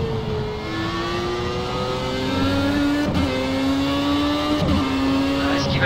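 A race car engine in the video game Project Cars revs and shifts through gears, its pitch climbing and dropping in repeated steps, loud and continuous throughout.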